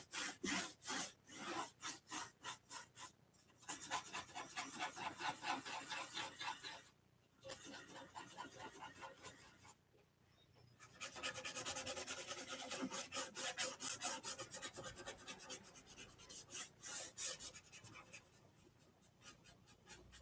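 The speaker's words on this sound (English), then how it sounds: "That slow value shift through this kind of pushing and really scraping it into the surface." Wet paint and a brush or knife scraped and pushed into a canvas surface, making repeated rough rasping strokes in bursts with brief pauses, close and fairly loud.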